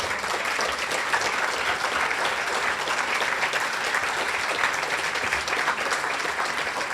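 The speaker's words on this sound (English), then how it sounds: "Will you all stand now and allow us to give you applause?" Sustained applause from an audience at a young professionals awards ceremony, honouring award winners; steady dense clapping throughout, fairly loud and even with no break.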